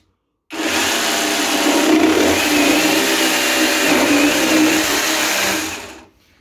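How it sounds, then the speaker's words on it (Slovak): Parkside PSSPA 20-Li A1 cordless jigsaw with its sawdust blower function switched on, a loud steady whirring motor that starts abruptly, runs evenly for about five seconds, then winds down and stops. "teraz si zapnem ofúk"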